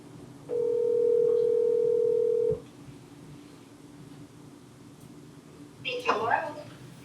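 A telephone dial tone hums steadily for about two seconds and then cuts off with a click. A short burst of dialing or line tones follows a few seconds later, set against a quiet room.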